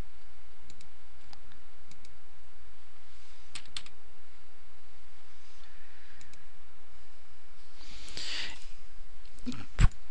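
Sparse computer keyboard key presses and mouse clicks while working in SPSS statistics software, isolated quiet taps spread out over a low hum, with a short busier cluster near the end.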